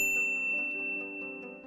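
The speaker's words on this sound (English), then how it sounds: "ring the bell to be notified about our latest videos" A notification bell sound effect, a bright, close ding with a ringing metallic tone that sustains and fades over nearly two seconds, heard on its own.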